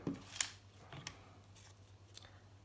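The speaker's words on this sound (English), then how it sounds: "So now I'm just going to cut 2 little squares." Scissors snip small squares from paper, giving a few quiet, crisp cuts spaced irregularly against a low background hum, with a sharper snip near the start and fainter ones after.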